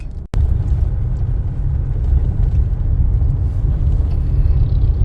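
Steady low road rumble of traffic from inside a car on a long provincial trip, continuous and fairly loud after a brief dropout at the start, with no talk.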